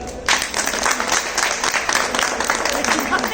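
Loud applause breaks out a moment in, a thick crowd of clapping hands at a business gathering that keeps going evenly, with a voice heard through it.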